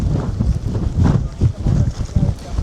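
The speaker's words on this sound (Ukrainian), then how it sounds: "Ви просто подивіться на цей вітер і на ці волни з барашками." Strong gusty wind of about 45 km/h buffets the microphone in heavy low rumbling bursts, with a rough watery wash of whitecapped waves on a river underneath.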